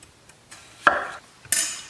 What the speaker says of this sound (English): We'll slice them up.